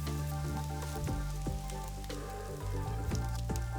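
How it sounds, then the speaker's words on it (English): Lamb simmering in a pot bubbles and blips steadily, with soft sizzling and occasional louder pops, close by and with no talking. "Little check on that lamb, I can hear it sort of blipping away."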